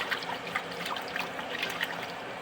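Dirty fish tank water from cleaning a Marineland canister filter drains away, a continuous trickling and gurgling with small splashy bursts, close and moderately loud.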